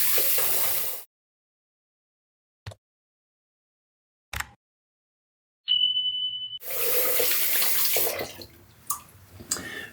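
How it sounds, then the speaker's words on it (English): Tap water runs hard while a face is rinsed after a wet shave with Rex Ambassador and Konsul razors. A loud gushing second is followed by a quiet pause with two brief knocks and a thin tone, then several seconds of steady running water. "let's rinse off."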